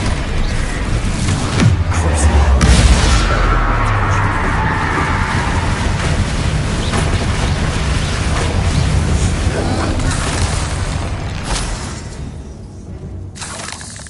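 A Bombarda blasting spell from Hogwarts Legacy erupts in a loud, sustained roar of crashing, shattering debris and rumble that fades slowly toward the end.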